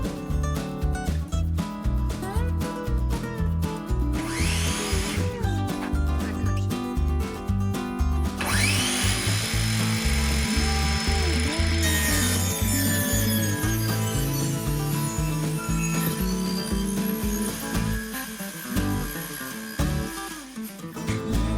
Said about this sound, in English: just plunge cut in and then back the saw up and then move forward to make those full cuts